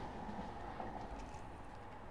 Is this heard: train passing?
yes